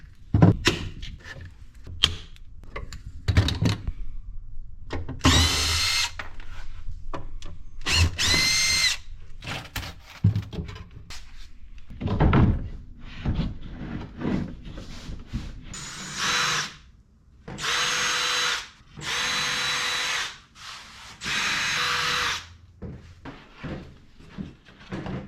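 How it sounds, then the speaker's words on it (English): A power drill bores mounting holes in custom car console side panels during interior fabrication, with repeated loud whirring bursts separated by pauses, handling clatter and tool knocks, close by. "So these mounting holes that we've drilled in both of those"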